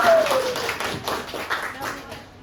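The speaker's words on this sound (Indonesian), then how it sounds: "Tepuk tangan untuk para teman." A school class claps hands together during a lesson, a short run of uneven claps heard close and moderately loud, with a whistle-like tone at the start and voices mixed in.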